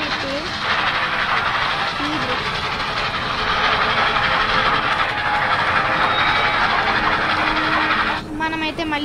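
A train rolls past in a zombie video game, a loud sustained rumble with hiss and clatter that lasts throughout and closes with a brief tonal sound.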